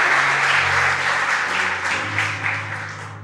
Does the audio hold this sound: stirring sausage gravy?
no